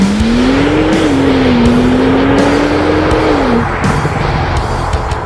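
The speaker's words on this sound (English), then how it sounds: "floor that right pedal off the line, and all four wheels will claw at the tarmac, and you are launched at the horizon" A Porsche 911 Turbo Cabriolet launches hard off the line with all-wheel traction, its engine note rising loud and steady for several seconds and then easing off, with a rushing roar close by.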